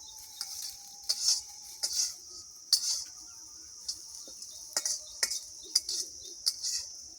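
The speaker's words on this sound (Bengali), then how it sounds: "সবজিটা ভালো করে ফ্রাই করে নিচ্ছি।" Vegetables frying in a pan for egg chow mein in a village kitchen give a steady, close hiss, broken by scattered clinks and scrapes of utensils stirring the pan. No one speaks.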